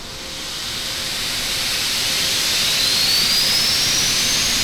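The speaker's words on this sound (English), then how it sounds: "we're going to go ahead and start engine 2 first, like we usually always do on the 787" Boeing 787 jet engine spooling up during start in Microsoft Flight Simulator 2020, a steady broadband roar and hiss that builds gradually in loudness, with a faint rising whine, no voices.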